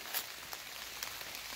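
Light drizzle falling outdoors, a faint soft patter of fine raindrops forming a quiet continuous hiss with a few slightly louder drops, no voices.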